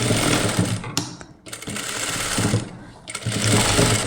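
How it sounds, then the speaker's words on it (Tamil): A sewing machine stitches lace onto a kids' crop top, running in loud close bursts of rapid needle chatter with two short pauses between runs. "இப்போ இந்த லேசையும் சேர்த்து தான் தைச்சிட்டு வர்றேன்"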